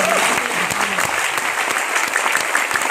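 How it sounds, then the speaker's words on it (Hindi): An audience at a motivational seminar applauds loudly for their leaders, a dense continuous clapping that stays close and even throughout, with a faint tonal voice briefly under it at the start. "आपके लीडर्स के लिए जोरदार ताली होनी चाहिए।"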